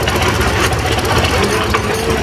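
A 1948 diesel tractor engine running at a steam and gas engine show, a loud, close, steady rumbling idle with dense low knocking throughout.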